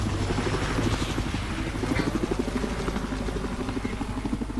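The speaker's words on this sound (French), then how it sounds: "Donc l'hélico il est revenu." A helicopter returns in a military video game match. The close rotor makes a steady, rhythmic thumping buzz that carries on without a break.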